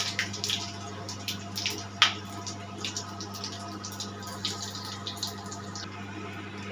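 Whole spices temper in hot oil in a wok over a gas flame for a potato curry, producing a steady, fairly quiet sizzling hiss with scattered small crackles and pops.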